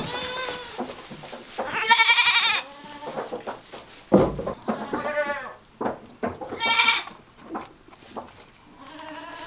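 Goats bleat loudly and repeatedly on a farm, several wavering calls close by with short gaps between them, alongside other farm animal noises.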